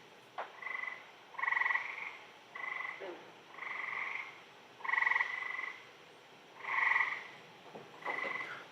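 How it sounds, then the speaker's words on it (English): Frogs croak at night near an observatory, a steady series of about eight rhythmic pulsing croaks repeating every second or so, moderately loud against a quiet, still background with no talking. "Yeah, these are frogs"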